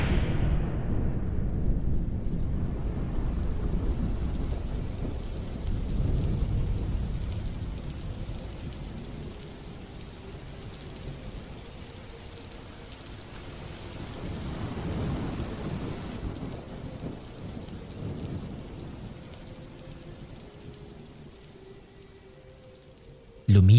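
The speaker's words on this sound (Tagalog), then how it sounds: "dahil sa biglaang pagbuhos ng malakas na ulan" Heavy rain pours down steadily as deep thunder rolls and rumbles, loudest early on and swelling again midway, with the downpour hissing continuously underneath.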